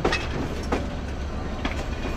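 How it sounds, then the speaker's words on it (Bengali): The Kurigram Express rolls around a bend close by, giving a steady rail rumble with a few clicking wheel beats over a short stretch. "ট্রেন প্রথমে একটা বেশ ভালোই কার্ভ নেয় এখান থেকে, এই যে নিচ্ছে"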